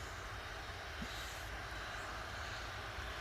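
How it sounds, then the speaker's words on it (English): EasyJet jet airliner engines spooling up at Manchester Airport, a steady, distant broadband roar that holds evenly throughout with no talking. "EasyJet sound like they're powering engines up."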